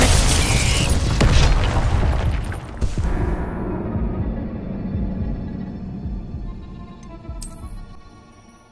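Fiery Confringo spell blasts in the Hogwarts Legacy battle against the Absconder: loud, dense bursts and booms crowd the opening seconds, with a fresh sharp impact near the three-second mark and a rumbling fade afterward.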